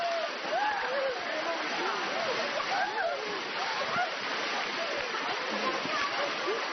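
Water pours down like a shower onto people water rafting, a steady loud rushing splash throughout while voices shout and call over it.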